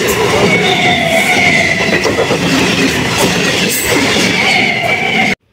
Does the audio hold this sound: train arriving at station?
yes